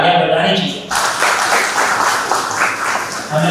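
Audience applause at a Brahma Kumaris youth empowerment talk in Hindi, a dense, steady wash of many hands clapping that swells sharply after a brief opening moment and continues loud throughout, with voices mixed in.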